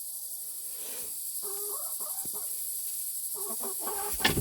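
Roosting hens cluck softly at bedtime in short, scattered bursts over a steady high hiss, a few low murmuring calls close by and one sharper squawk near the end.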